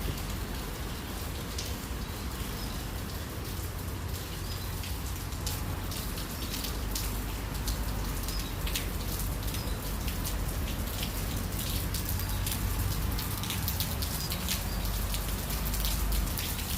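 Steady rain patters and splashes on surfaces at Gardens by the Bay in Singapore, a dense continuous hiss of drops close by with no voices.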